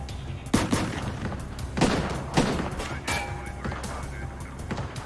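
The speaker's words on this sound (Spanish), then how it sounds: "Se giró y disparó hacia donde Bammel estaba parado. El agente devolvió el fuego." Gunshots ring out in a brief exchange of fire, several sharp reports spaced irregularly over a dull background rumble.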